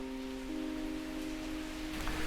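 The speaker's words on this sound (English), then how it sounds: "Now, it's not usually raining in Bangalore right now. This is very unseasonal." Unseasonal rain falling on a small garden patio in Bangalore beside a large avocado tree, a steady soft patter with a faint tonal hum running underneath, even in level throughout.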